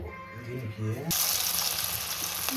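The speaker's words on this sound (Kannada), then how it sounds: "ನೋಡಿ ಕಬಾಬ್ ಹಾಕ್ತಿದ್ದೀನಿ. ಎಣ್ಣೆಯಲ್ಲಿ ನೀಟಾಗಿ ಬೇಯ್ತಿದೆ." Garlic chicken kabab dropped into hot oil, a sudden loud burst of sizzling that continues as a steady close crackle, preceded by a brief spoken voice.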